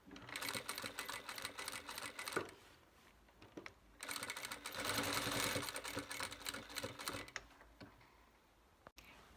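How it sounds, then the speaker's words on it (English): A sewing machine runs in rapid, buzzing bursts while stitching a summer dress close to the edge, pausing briefly between runs, close and steady. "Then you stitch all the way down."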